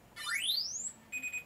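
A homemade electronic transmitter box switches on with a rising chirp tone followed by two short high beeps, faint and alone, with no talk.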